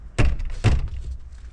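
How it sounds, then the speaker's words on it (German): A door thuds twice against its frame without latching shut, two loud, close knocks about half a second apart, set at a home pool under renovation. "Dafür geht die Tür nicht zu."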